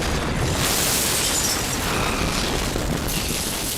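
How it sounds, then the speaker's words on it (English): A building explosion set off in downtown Los Angeles for a film: a sustained, loud, broad roar that stays at full strength for several seconds rather than one sharp bang. "What you saw was the actual explosion."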